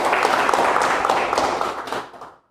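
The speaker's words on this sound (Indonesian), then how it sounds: "Tepuk tangan buat Anda semua." An audience at a business presentation claps in a brief, fairly loud burst of applause that fades out quickly after about two seconds.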